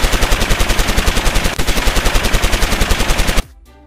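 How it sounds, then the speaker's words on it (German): Rapid bursts of toy-style gunfire, as in a Playmobil police play scene with shots aimed at a getaway car's tyres during a cash-machine robbery chase; a loud, steady rattling volley runs for over three seconds, then stops abruptly. "Alle Mann auf die Reifen schießen,"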